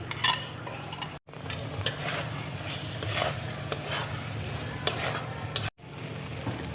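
Grated paneer stirred into a sizzling egg curry masala in a pan, continuous close frying hiss with repeated spatula scrapes and clicks, loud and steady with two brief cut-outs.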